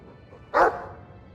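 A dog in the video game Dragon Age II gives a single short, sharp bark, close and clear against a quiet background.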